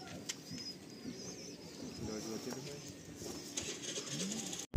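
Pigeons cooing softly inside a loft, low burbling coos over a faint ambient background with a few light chirps, fairly quiet and continuous.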